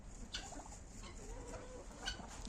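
Soft clucking from crested white Ukrainian chickens and a white rooster in a quiet yard, a few low, scattered calls over faint background noise.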